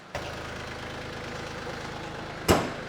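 A TYM tractor engine idles steadily while warming up, its low, even rumble continuous throughout, with a sharp knock near the start and a brief clatter shortly before the end.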